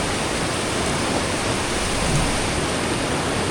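A fast-flowing river in the Banff backcountry rushes loudly and steadily close by, a dense, unbroken roar of moving water with no voices over it.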